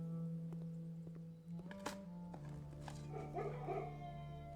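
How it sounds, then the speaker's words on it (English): A dog barks in the video game Blue Prince, a few short yips and woofs over a steady droning game music bed, with no talk. "Woof, woof"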